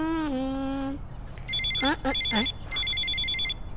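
A phone rings on a call with a warbling electronic ringtone that repeats in short bursts. The rings sit close and clear, and a voice speaks briefly in the gaps between them.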